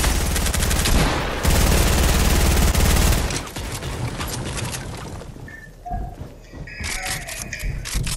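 Rapid automatic gunfire in Fortnite rattles loudly for the first few seconds, then breaks into scattered shots and game effects at lower volume.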